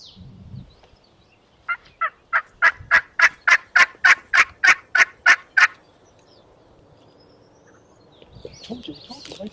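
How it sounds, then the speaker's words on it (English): A wild turkey gobbles in one long rapid burst of about fifteen evenly spaced pulses, loud and fairly close, with faint rustling before and after and no speech over it. "I definitely heard another gobble several times."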